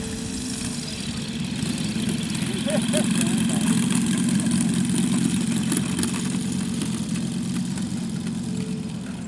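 A propeller aircraft engine idles steadily on the ground after landing at an airshow, a continuous loud low drone with a faint higher whine, running throughout without much change.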